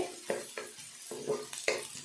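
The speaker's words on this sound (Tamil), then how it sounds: "பாருங்கள் வெங்காயம் நல்லா வதங்கி வந்துருச்சு" Onions sizzle and fry in a pan with periodic stirring scrapes, steady hiss beneath a few louder bursts of movement.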